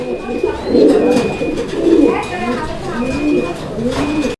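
Several fancy pigeons for sale coo in low, throaty bursts close by, overlapping in a steady murmur.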